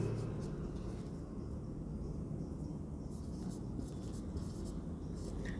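Pen scratching steadily as notes are written during a maths lesson, a faint continuous scribbling over low room rumble with no pauses.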